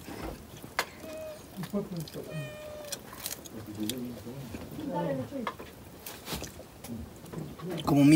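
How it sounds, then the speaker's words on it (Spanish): A kitten meows a few times in the countryside near someone eating, short high mewing calls mixed with clatter and nearby voices talking. "Como mi gatito está aquí"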